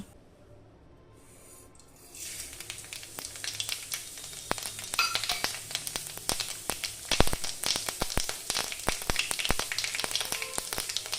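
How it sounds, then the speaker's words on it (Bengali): Panch phoron spices dropped into a little hot oil: after a quiet start the pan bursts into loud crackling sizzle, with dense popping spits that keep going. "আর একটু তেল দিয়ে পাঁচফোড়ন দিলাম"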